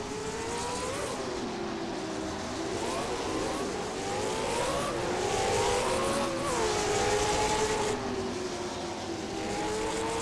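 Late model stock cars circle Jefferson Speedway, their engines droning at a distance in rising and falling revs as several cars pass through the turns, one after another, steady and continuous.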